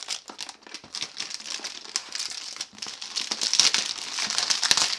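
Plastic packaging on a French army combat ration, Ration de combat N°12, being torn open and crinkled by hand, with close, continuous crackling and rustling in irregular bursts.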